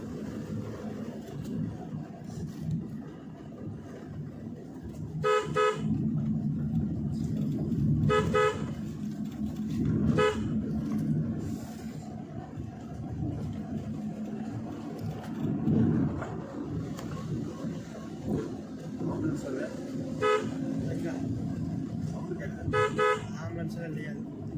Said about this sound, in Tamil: ஆம்புலன்ஸாக இல்லையா? வண்டி சவுண்டா?